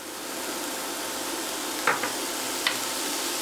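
Onions sizzling in hot olive oil in a pan, a steady broadband hiss of frying with a few faint clicks of a utensil, continuous and close with no talking.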